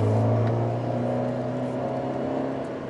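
A Fiat 124 Spider Abarth engine pulls steadily on a curvy road, a loud, sustained low drone with a steady tone that fades slightly toward the end, heard from inside the car with no talk.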